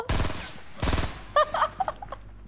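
Gunfire in Fortnite: two rapid bursts of automatic fire rattle out close and loud, followed by scattered smaller game sounds and effects.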